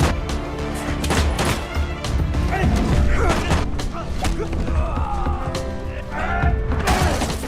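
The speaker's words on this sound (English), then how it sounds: "The man hid in a corner and exchanged fire with the terrorist." Gunfire traded in an action film shootout, a man firing from cover at a terrorist, with dense repeated thumps and crashes under a busy, loud movie soundtrack.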